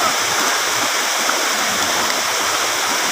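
Flowing water at a main water source pours and rushes in a steady, loud, continuous roar like a stream or small waterfall, heard nearby without a break.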